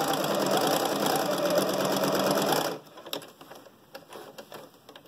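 An electric sewing machine stitches a curved seam on a fabric 3D face mask, running in a loud steady whir for a few seconds, then stopping, followed by scattered soft clicks and handling noises.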